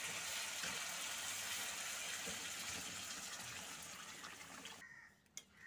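Water gushes steadily into a cooking pan to make a thin Bengali fish curry broth of puthi fish with potato, a loud continuous pour that cuts off near the end.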